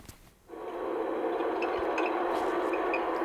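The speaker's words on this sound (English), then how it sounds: "if we have another example here where it's just in one tone, that will be squeal" A single steady squeal tone from a vehicle NVH recording rises after a brief quiet start and then holds evenly, a sustained narrow whine with a few faint ticks scattered over it.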